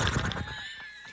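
A horse neighs in a single loud, close whinny with a wavering pitch that trails off over about a second, used as a sound effect.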